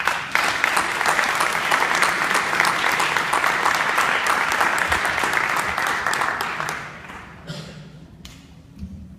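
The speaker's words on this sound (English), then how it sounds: "Please give them a round of applause." Applause for the Station Camp High School marching band at a U.S. Army All-American induction, a dense crowd of clapping filling the room for about seven seconds before thinning to a few scattered claps and thumps.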